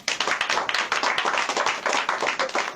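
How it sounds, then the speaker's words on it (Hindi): A church congregation claps together at a Hindi sermon on Jesus calming the storm, a steady rhythmic burst of hand claps lasting about three seconds, fairly close and even. "ताली बजाएंगे?"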